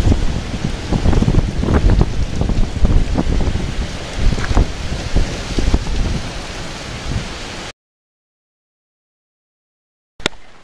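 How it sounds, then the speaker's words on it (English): Heavy rain pours sideways with gusting wind buffeting the microphone, loud and dense, then cuts to silence before a brief burst returns. "it's been raining, as you can, I don't know if how well you can see, pretty hard"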